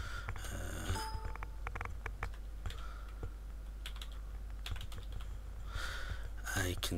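Typing on a computer keyboard during an Elite Dangerous game session produces irregular bursts of close, crisp key clicks and clacks with short pauses, over a low background hum.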